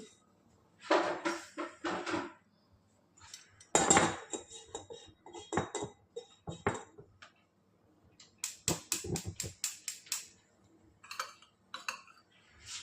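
Roasted semolina is emptied out of a pan, with bursts of metal spatula scraping and clinking against the pan separated by quiet pauses over several seconds.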